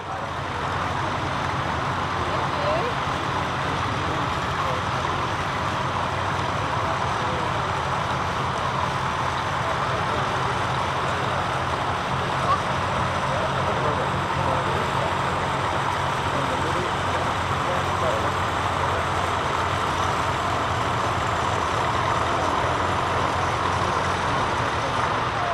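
A vintage farm tractor fitted with mid-mount cultivators drives in a heritage grand parade, its engine a steady low rumble within a broad, continuous outdoor noise that holds even for the whole stretch.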